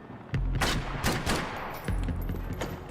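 Gunfire in the video game Max Payne 3: bursts of rapid shots cracking loudly in several clusters over a steady low rumble, with no voices.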